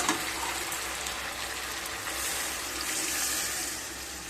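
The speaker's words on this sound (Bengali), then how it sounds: "এবার জল দিয়ে দেব।" Water poured into a pan of cauliflower and paneer curry on a stove, a steady, continuous splashing gush that stays even throughout, close and fairly quiet, with no voices.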